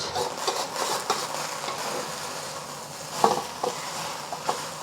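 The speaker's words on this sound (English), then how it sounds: "We're just gonna let it sear on one side and then flip it over and sear the other side." Fried noodles searing in a hot pan give a steady sizzle, broken by a few light scrapes and clinks of utensils against the cookware, with no talk.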